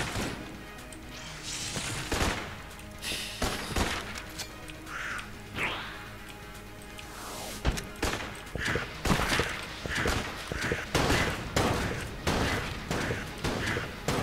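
Rapid bursts of video game gunfire in Enter the Gungeon, with dense volleys of shots, crashes and impacts over a busy, loud soundtrack.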